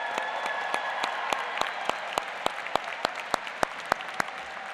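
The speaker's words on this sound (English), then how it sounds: "give yourself a round of applause" Soft, steady applause from a crowd at a university commencement ceremony, with a row of sharper claps or taps standing out at a regular rhythm throughout.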